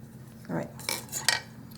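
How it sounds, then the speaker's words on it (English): A knife blade slides beneath a tiny doll-size toaster pastry and scrapes it across a work surface onto parchment, giving a few short, close metallic scrapes and taps with quiet pauses between them. "knife underneath, kind of use the knife to scrape it off the work surface and back onto the parchment"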